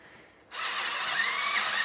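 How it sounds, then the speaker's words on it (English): Cordless power drill spins up abruptly after a brief quiet moment and keeps running at a steady high whine, close and fairly loud, with no one talking. "got a little charge in my drill here"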